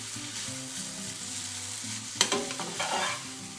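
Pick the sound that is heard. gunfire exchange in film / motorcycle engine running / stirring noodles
stirring noodles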